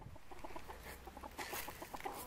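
Chickens cluck repeatedly and close by while being fed corn, a busy scatter of short calls from several birds with no talk over them.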